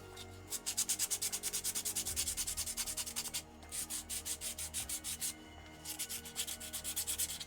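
A hand sanding tool fitted with fresh sandpaper rubs in fast, regular back-and-forth strokes, a loud rhythmic scratchy rasp with two brief pauses between bursts.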